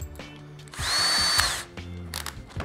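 A cordless power drill spins up loud and close for about a second, holding a steady high whine before winding down, with quieter handling knocks before and after.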